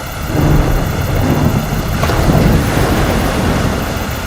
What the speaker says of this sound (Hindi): अचानक बादल छा जाते हैं और घनघोर वर्षा होने लगती है।